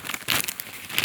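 Crinkly plastic snack bag, crab flavoured, being torn open by hand: a close, brief burst of crackling and crumpling with bright rustles, no talking.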